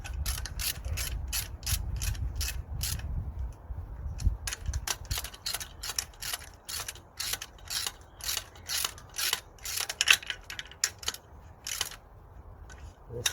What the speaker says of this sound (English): just gonna torque up these two 12mm bolts